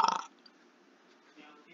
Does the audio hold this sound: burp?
yes